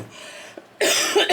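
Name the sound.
cough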